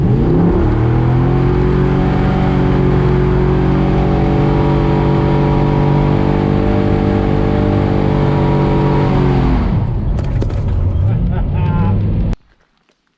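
A car fitted with a B&M 3000 stall converter revs hard and accelerates, a loud sustained engine roar holding high for about ten seconds, then dropping away and cutting off abruptly near the end.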